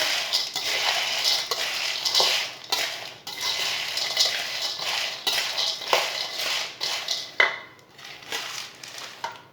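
Roasted chickpeas and fox nuts are stirred together in a pan with the stove off: a continuous dry rattling scrape with frequent metallic clinks of the spoon, close and fairly loud throughout, no one speaking.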